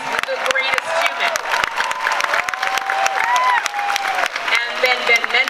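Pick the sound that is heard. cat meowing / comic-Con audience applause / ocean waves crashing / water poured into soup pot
comic-Con audience applause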